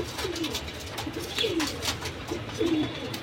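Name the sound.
cooing of silver Rani breed pigeons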